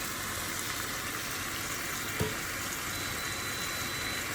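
Ground beef fries in a pan with a constant, even hiss of sizzling fat, moderately loud and unbroken, with one small clink midway.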